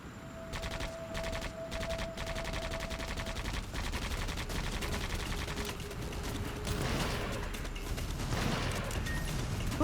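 Missiles and explosions burst in a video game, a dense, continuous barrage of rapid blasts and crackling impacts rolling on loudly throughout with no pause.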